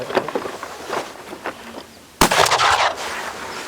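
One loud, sharp shot rings out from a Remington Model 11-48 shotgun with a cylinder bore. It comes after a quieter stretch of background noise, and a brief reverberating tail follows.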